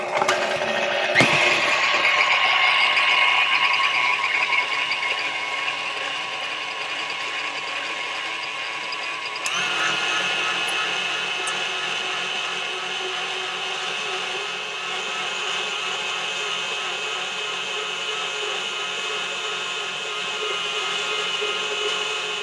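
A whirring electric mixer churns chocolate chip cookie dough in a bowl, its steady mechanical drone running continuously with a shift in pitch partway through, loud and close with no talking.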